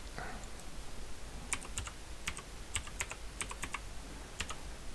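Username being typed on a computer keyboard: bursts of sharp, close key clicks in an irregular rhythm over a low room hum, no voices.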